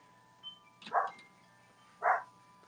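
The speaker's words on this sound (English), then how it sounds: "barking at squirrels or something out there" Indoors, a dog barks at squirrels outside. There are two muffled barks, about a second apart, faint and somewhat distant, over a quiet hum, with no talking.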